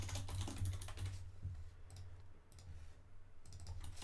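Quick, light keystrokes tap on a computer keyboard in short close bursts, soft clicks against a quiet room hum.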